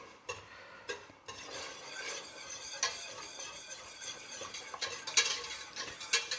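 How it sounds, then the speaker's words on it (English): Butter whisked into a thickening apple pie sauce in a pot, quiet continuous scraping and stirring with occasional sharper metal clicks of the whisk, no talking. "Just whisk that through."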